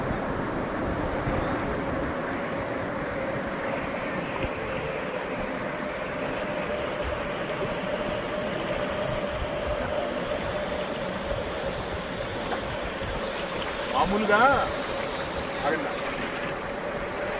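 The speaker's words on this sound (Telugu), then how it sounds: "ఈ రివర్లో వాటర్ సౌండ్" River water flows steadily with a constant rushing wash, a broad even roar that continues throughout, with a brief louder splash near the end, in Washington DC.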